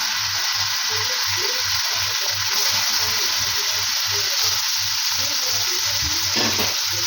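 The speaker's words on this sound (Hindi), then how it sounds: "हम प्याज का कलर चेंज होने तक इसको पकाएंगे" Two medium chopped onions fry in hot oil or ghee, giving a loud, continuous sizzle with a steady pulsing hiss close by; a clink sounds near the end, and no one speaks.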